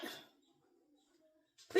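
A dog barks outdoors near bush at dawn: one short bark at the start, then near silence, then another sharp bark burst at the end, moderately close and not very loud.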